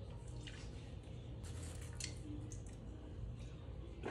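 Water is poured from a glass into a cup, giving a soft, steady trickle and a few splashy drips, close and quiet, over a low background hum.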